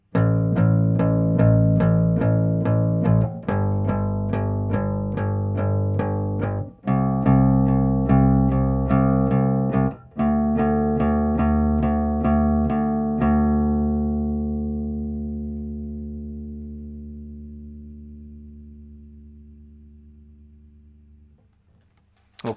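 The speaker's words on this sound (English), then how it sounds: "Okay, now you're playing bass." Bass guitar played alone in a simple repeating line of clear plucked notes, steady and loud, then a final note left to ring and decay slowly into silence.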